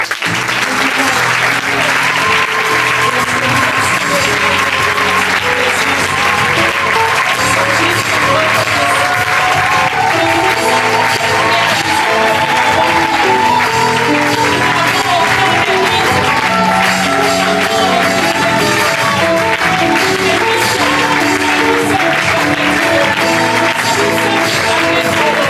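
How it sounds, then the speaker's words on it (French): Church congregation applauding loudly and steadily throughout, a dense wash of clapping with some cheering mixed in, under music that plays along the whole time. "Nous pouvons l'acclamer."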